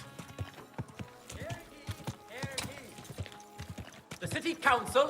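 Rhythmic clip-clop of horse hooves trotting in the video game Kingdom Come: Deliverance 2, fairly quiet, with someone talking over them and some game music toward the end.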